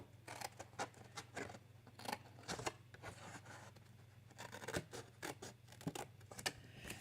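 Paper being cut and notched with scissors at a crafting desk for Christmas mug gift boxes: a steady run of quiet, close snips and crisp scratchy slices, irregular in rhythm, with no voices.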